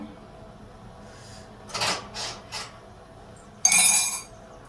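Dishes and utensils clatter in a few short bursts while being washed up, one sharp clinking rattle near the end, over a quiet background.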